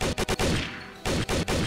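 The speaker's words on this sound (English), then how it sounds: "I got myself a machine gun." Bursts of automatic machine gun fire in a Roblox zombie game, rapid loud clusters of shots broken by a short pause, then resuming in quick chopping rounds.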